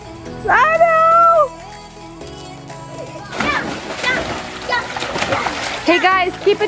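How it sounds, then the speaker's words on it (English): Toy water blasters spray and splash during a backyard water fight, the bursts loud and close amid excited children's shouts and squeals throughout. "Water gun fight!"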